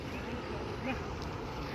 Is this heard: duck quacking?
yes